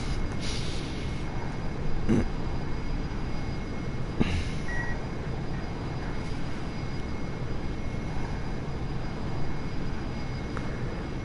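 Steady, droning airplane engine in the Flight Simulator video game, a constant broadband hum with a couple of faint clicks and a brief tone, no talk.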